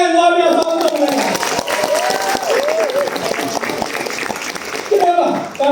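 An audience at a business forum in Kuala Lumpur claps, a steady wash of applause with a few cheers running under a voice addressing the room.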